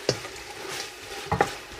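A masala of tomatoes, ginger and garlic fries quietly in a pan at medium heat, with a soft steady sizzle broken by a few sharp scraping stirs at the start and near the end.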